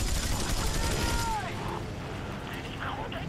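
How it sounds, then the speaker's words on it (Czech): Aircraft cannons fire in the flight combat game IL-2 Sturmovik: Birds of Prey, giving a dense, rapid rattle of shots that thins out after about a second and a half, while someone talks over the noisy game audio. "Tady se mně strašně líbí ten zvuk těch kanónů."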